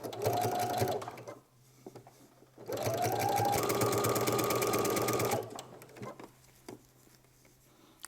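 A sewing machine stitches a pajama seam in a home sewing setup, two bursts of fast, even whirring stitches with a short pause between, then a quieter stretch of small clicks and handling noises.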